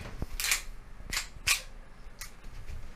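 A 1911 airsoft handgun firing, a few sharp snapping shots spaced roughly half a second to a second apart, close and crisp over a faint background hiss.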